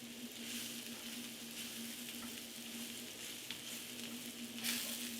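Kale wilting in a skillet over a low stove, giving a soft, faint sizzle with occasional light stirring scrapes and a low steady hum beneath.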